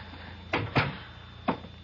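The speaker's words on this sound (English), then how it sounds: "Come in, let's shut the door." A door is pushed shut indoors with a couple of quick wooden knocks and bumps, then another soft thud a moment later, close and fairly loud, with no talking.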